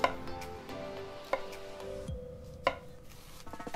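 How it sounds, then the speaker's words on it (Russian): A knife slices mushrooms into thin slices on a cutting board, giving a few sharp, close knocks spaced about a second apart over a quiet kitchen background. "Также грибы нарезаем тонкими слайсами."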